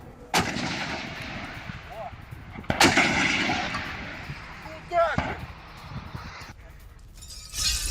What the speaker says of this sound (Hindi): छोटी तोपों का इस्तेमाल भी युद्ध क्षेत्र में हो रहा है।